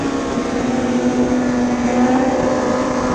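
A motorcycle engine drones close by on the Marilaque road, a steady, loud tonal hum that swells slightly in pitch and loudness midway without fading away, and no one speaks over it.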